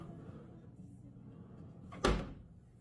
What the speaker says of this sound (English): there's drawers here that are not slow closed